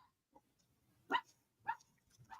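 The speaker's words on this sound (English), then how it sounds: "the ones barking right now are not our dogs" Neighbours' dogs bark at a distance in short, separate woofs, three or four of them over a couple of seconds, faint against a quiet indoor background.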